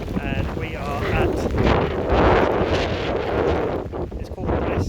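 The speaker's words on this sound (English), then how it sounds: "very windy." Strong wind in Argentina buffets the microphone, making a loud, continuous roaring rumble for the whole stretch, with a voice partly audible beneath it at the start.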